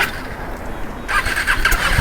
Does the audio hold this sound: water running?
no